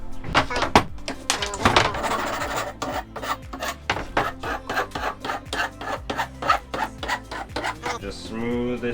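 Steady rhythmic rasping strokes of a metal file smoothing the freshly cut edge of a bicycle handlebar, close and fairly loud, running continuously with no talk.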